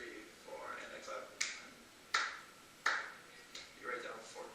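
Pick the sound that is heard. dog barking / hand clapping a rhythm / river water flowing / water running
hand clapping a rhythm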